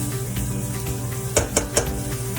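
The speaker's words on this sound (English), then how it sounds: "You can probably hear the sizzling a little bit." Vegetables, including celery, sizzle softly in a soup pot for ham and pea soup, a steady low frying hiss broken by three sharp clinks of a utensil against the pot.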